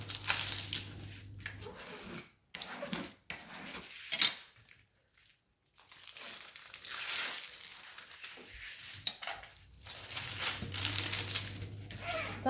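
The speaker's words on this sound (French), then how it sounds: "On remplace le papier." Thick transparent protective paper crinkles and rustles as it is handled over a diamond painting canvas, with intermittent crackling bursts, brief pauses and a steady low hum in the background.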